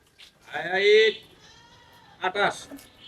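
A goat bleats twice nearby, a long wavering call followed by a shorter one, with quiet background noise between.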